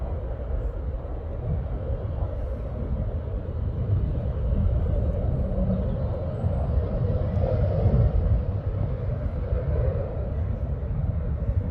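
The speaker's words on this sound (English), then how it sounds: "There we go, it's Ryanair." A Ryanair airliner at Stansted Airport produces a loud, continuous engine roar and deep rumble that swells slightly and holds steady, with no voices.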